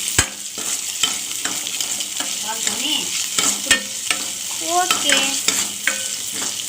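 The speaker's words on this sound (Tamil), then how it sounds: "ஸோ இப்போ வந்து நம்ம இதை நல்லா வதக்கிக்கலாம்" Ingredients for mochai kottai kulambu, a field bean curry, sizzle and fry in a pan while a spoon stirs and scrapes with repeated clinks. A brief spoken word comes through over the close cooking sounds.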